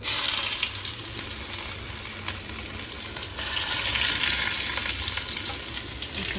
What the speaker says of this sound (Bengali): আমি ভাজা মরিচ দিলাম রসুনটা ভাজা হয়নি